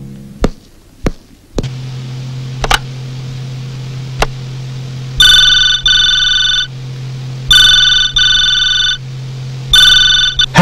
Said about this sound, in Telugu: ఫోన్ 4 సార్లు రింగ్ అయితే గాని ఎత్తడం అలవాట లేదా?